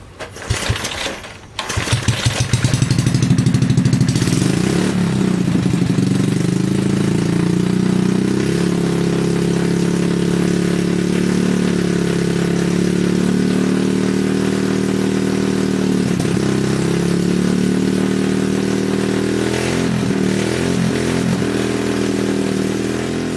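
A Rat Rod mini bike's small single-cylinder engine, fitted with the magneto from a Raptor 3 motor, starts after a few pulls and runs steadily, loud and close, holding a buzzy idle with slight wavers.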